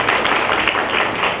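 An audience at a grand celebration event applauds, steady dense clapping from many hands, filling the space evenly and continuously.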